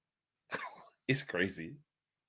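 Two short, close coughs, the second a harsher double burst, with brief silence around them.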